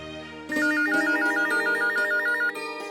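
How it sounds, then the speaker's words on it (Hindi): A phone ringtone rings in a Hindi TV serial scene, a bright repeating electronic melody that starts abruptly and plays steadily for a couple of seconds, loud and alone. "सुबह से 5-6 फोन आ चुके हैं"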